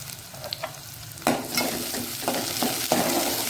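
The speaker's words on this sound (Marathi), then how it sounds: "त्याला व्यवस्थित आपण परतून घेऊया" Onions and curry leaves sautéing in oil in a pan, a steady close sizzle punctuated by a few sharp spatula scrapes and stirring knocks, with no talk over it.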